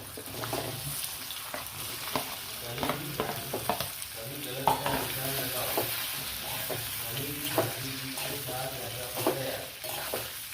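Potato pieces sizzle in a pan for a Shivratri fasting dish, with continuous frying hiss and repeated scraping stirs from a spoon, close and steady without talk.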